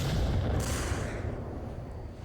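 Grenade blasts in the Onward VR shooter during a competitive team match: a heavy, close boom that spills into a thick low rumble and slowly decays over a couple of seconds, with no talking.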